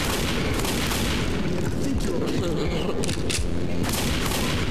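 Dense, continuous gunfire in the zombie shooter Left 4 Dead, a loud unbroken wall of rapid shots with a few heavier booms, with voices talking over it.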